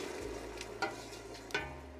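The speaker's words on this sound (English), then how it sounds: "the next thing I'm going to do is put some wine in" Wine sizzling as it is poured into a hot pan over medium heat, a steady frying hiss with two brief louder spits, heard alone without talk.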